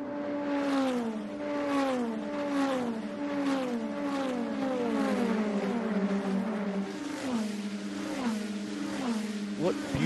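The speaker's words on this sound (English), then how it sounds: "What beautiful sights and sounds of these race cars here at Road America." INDY NXT race cars at Road America roar past one after another, their engines rising and falling in pitch as each car accelerates and passes, loud and continuous, with a commentator talking over them.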